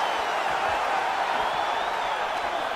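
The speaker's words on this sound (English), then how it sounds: "you hear the crowd react every time they come together" A crowd in a UFC video game fight roars steadily and loudly throughout, reacting to heavy strikes traded between two fighters, with no clear breaks.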